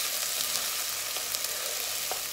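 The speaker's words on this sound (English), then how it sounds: "ginger, garlic in, and green chili, and it will start to sizzle a little bit more at this stage" Ginger, garlic and green chili paste sizzles in a pan while a masala for lamb is cooked, giving a steady, even hiss with a few faint pops and no voices.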